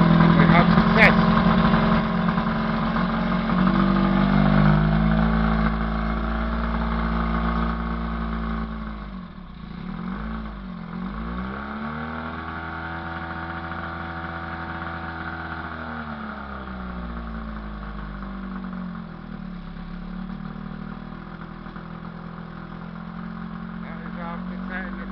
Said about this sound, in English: And then I'll go up here and press this button. We have success.